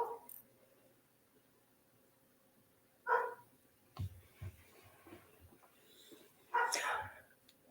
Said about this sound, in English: I do apologize for the dogs barking.